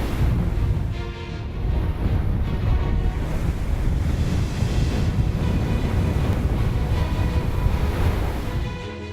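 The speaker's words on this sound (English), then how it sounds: "where icy waves smash into ships like sledgehammers" Icy northern ocean waves crash and roll continuously against ships in the far-north sea, a loud steady surge with heavy wind noise buffeting throughout.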